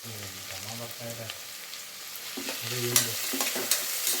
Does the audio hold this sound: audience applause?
no